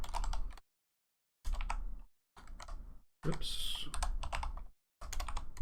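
Rapid clattering keystrokes on a computer keyboard while coding a Vulkan game engine, close and clear in several bursts separated by silent pauses, with someone briefly speaking.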